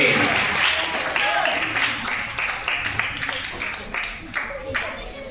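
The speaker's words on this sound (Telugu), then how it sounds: "క్లాప్స్ కొట్టండి, క్లాప్స్ కొట్టి వస్తుంది" An audience at a puppet show claps steadily, with distinct hand claps over a constant murmur of the crowd, at a moderate level throughout.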